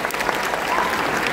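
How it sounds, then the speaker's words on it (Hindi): Applause welcoming a guest at an international herbal fair, a dense burst of clapping from a crowd, loud and steady across the short moment. "एक बार फिर जोरदार ताली से रवीना जी का स्वागत करेंगे।"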